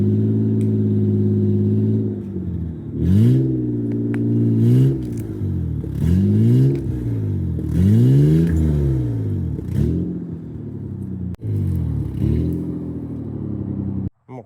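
A truck engine revs hard in repeated surges while pulling out a tree stump, its pitch rising and falling through several strained pulls, close, loud and steady, with a few clanks and a sharp knock near the end.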